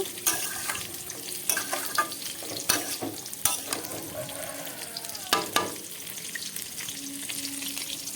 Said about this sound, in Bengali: আর এরপরে ভালো করে কষিয়ে কষিয়ে আমি রান্না করে নেব